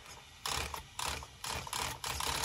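A Sanwa RC servo steering the wheels of an Agama A319e electric car, driven left and right to its end stops in five even bursts of buzzing, whirring gear noise, close and alone.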